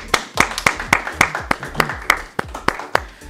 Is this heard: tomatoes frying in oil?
no